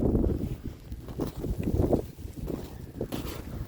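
Strong wind in a night-time snowstorm, heard as a low, gusty roar buffeting the microphone in uneven surges, with scattered soft knocks and scrapes mixed in.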